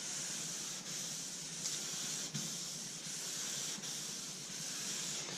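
Wet sanding of a car's clear coat paint: a steady, close abrasive hiss of paper rubbing over the wet panel, with faint periodic stroke changes and no talking.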